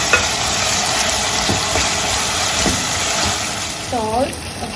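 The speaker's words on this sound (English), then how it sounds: "Now I'm gonna add our tomato, ginger and garlic. Mix it up real good." Tomato, ginger and garlic get stirred into golden-brown fried onions in a hot pan, producing a loud, continuous sizzle with scraping stir strokes. A short clink of metal sounds near the end.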